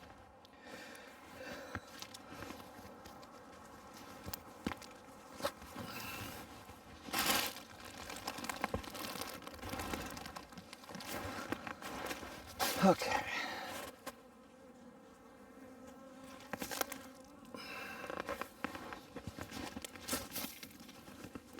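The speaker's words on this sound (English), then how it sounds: "Oh my God, lots and lots and lots of bees." Honey bees in a late-winter hive give off a steady, dense buzzing hum that runs throughout, with papery rustling and crinkling mixed in. A person speaks briefly over the bees.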